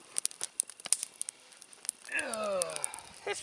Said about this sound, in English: That's the trouble with using these plastic bags, is you get sparks flying.